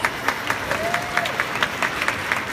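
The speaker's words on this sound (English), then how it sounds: "Let's give them a round of applause." A small audience at a live beauty event in a Macy's department store in Dallas applauds briefly, with a light, fairly rhythmic patter of clapping at moderate volume.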